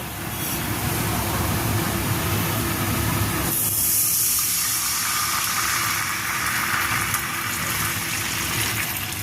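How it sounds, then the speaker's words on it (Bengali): Water being poured into a pan of fried onions while making Kolkata-style chicken biryani, a steady loud hiss and sizzle that shifts partway through as the water hits the hot oil, alone and close. "এবার আমি এর মধ্যে জল দিয়ে দেব।"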